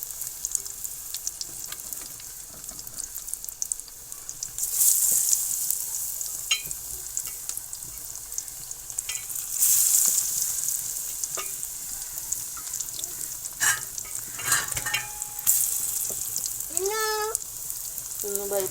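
Potato pakoras fry in hot oil at home, a continuous bubbling sizzle that swells louder in bursts, with occasional clatter and a person talking nearby.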